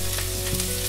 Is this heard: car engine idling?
no